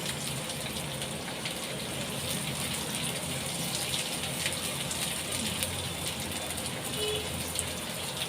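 Onion frying in hot oil for an okra dish, a steady hiss of sizzling like light rain, constant and fairly quiet with no clear voices.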